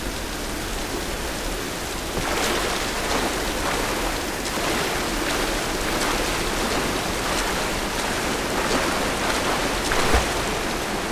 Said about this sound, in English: Yes, I know it's raining